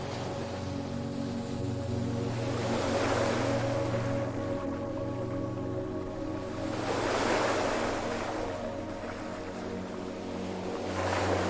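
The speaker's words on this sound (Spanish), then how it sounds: "contempla las olas que se forman en el océano" Ocean waves roll in and break on a sandy shore in slow, swelling surges, a steady wash of surf rising and falling about every four seconds with a low wind rumble underneath and no voices.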